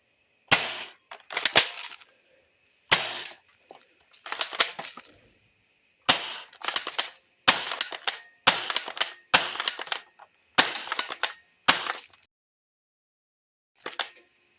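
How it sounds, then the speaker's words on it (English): Airsoft gun fired at an apple, about a dozen sharp snapping shots with short impact clatter, spaced irregularly with near-silent gaps between, the last one arriving after a longer pause. "I'm going to show you what this thing does to an apple. And to clarify, this is an airsoft gun."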